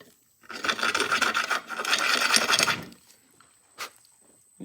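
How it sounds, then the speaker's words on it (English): A deburring tool scrapes burrs off a metal motor casting in two close, raspy strokes lasting about a second each, followed by quiet and a short faint scrape. "So you just take the deburring tool,"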